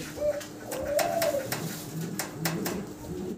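White Pomeranian Pouter pigeons coo softly nearby in low, rolling calls, with a few sharp taps and clicks scattered among them.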